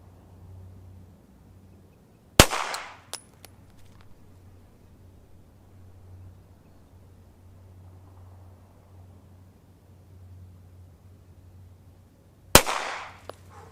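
A Glock 19 pistol fired weak hand only on an outdoor range: two loud, sharp shots about ten seconds apart, each with a short ringing echo, quiet background between.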